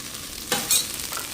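Ginger, tomatoes and corn hit a hot pan for a corn and carrot soup, giving a short hiss of sizzling and a couple of quick scraping stirs, faint and close, with no voices.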